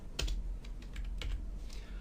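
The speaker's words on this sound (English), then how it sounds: "So let's just type tooltip" Someone types on a computer keyboard, giving a short run of soft, close key clicks at an uneven pace over a quiet background.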